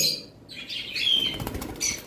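Young lovebirds shake and flap their wings right after bathing, a close, brief burst of fluttering wingbeats mixed with a few faint chirps.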